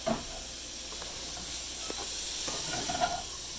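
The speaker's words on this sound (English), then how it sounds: "Then you just saute them" Food sautéing in a pan: a steady, even sizzle and hiss fills the whole stretch, with a few faint clinks from stirring and no speech.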